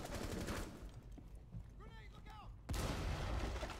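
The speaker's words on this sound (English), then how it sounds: "Oh, that was a grenade." A grenade explodes in the Rainbow Six: Siege video game, a sudden loud broadband blast near the end that follows quieter gunfire-like rumbles and brief warbling effects.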